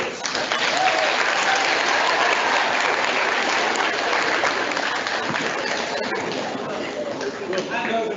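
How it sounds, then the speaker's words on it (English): A large audience at a public speaking competition bursts into dense, continuous applause, loud and full, holding steady before easing slightly toward the end. "So give yourselves all a round of applause."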